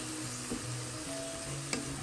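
Ground fennel sizzles with onions in hot oil for a country-style chicken varattiyathu, a steady soft frying hiss with a faint tonal hum and a brief clink near the end.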